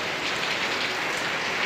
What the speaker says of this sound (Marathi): पाऊस काय पडायचा थांबायचं नाही,